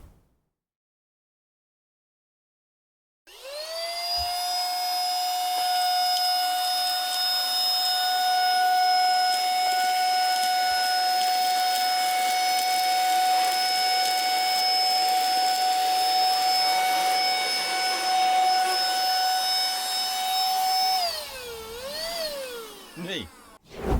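A Lakeland 3-in-1 mini vacuum cleaner switches on after a few seconds of silence and runs with a steady, high-pitched motor whine, then winds down with a wavering drop in pitch near the end.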